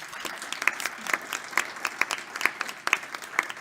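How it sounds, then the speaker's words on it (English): Applause from a fairly small audience at a brunch talk event, individual claps distinct and uneven, moderately near, continuing for several seconds without speech. "Huge round of applause for Renee."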